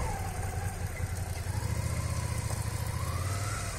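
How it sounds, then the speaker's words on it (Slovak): A motorcycle engine idles steadily close by during a riding lesson, a low, even rumble with slight pulsing and no clear revving. "počúvaj ten motor"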